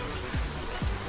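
Continuous rainfall in Hunt: Showdown keeps up an even hiss, while two dull low thuds land about half a second apart underneath it.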